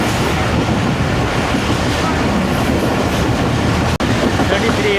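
The 33UP Pak Business Express train runs on rails near Karachi, heard from inside as a loud, continuous rumble and roar of wheels, steady throughout with one brief dropout.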